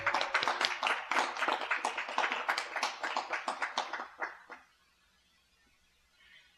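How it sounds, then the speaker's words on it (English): Applause at a city council meeting from a small audience, a burst of quick hand claps lasting about four seconds before fading out into near silence. "can we give everybody a round of applause?"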